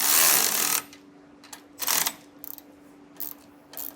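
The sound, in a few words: tightening bolts with a 3/4 inch socket and wrench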